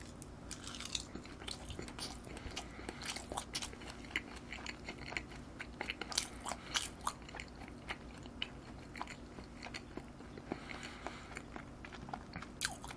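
Tuna sushi wrapped in seaweed chewed close up, a steady stream of crunchy bites and moist mastication repeating throughout with no talk.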